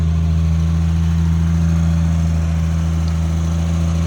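A straight-six car engine idles steadily after a cold start, a loud, smooth low hum with an even throb close by, unchanging throughout with no talk.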